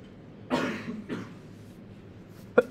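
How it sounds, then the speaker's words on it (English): Coughing in a physics classroom, two close bursts about half a second apart followed by a quieter short cough, all moderately near over low room noise. "two people coughed at the same time"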